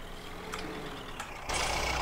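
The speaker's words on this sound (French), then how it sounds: "Allez, on va faire une petite marche arrière." Tractor backing up in the Farming Simulator 19 video game: a steady engine hum with faint periodic reversing tones, then a louder, brighter mechanical hiss kicks in near the end.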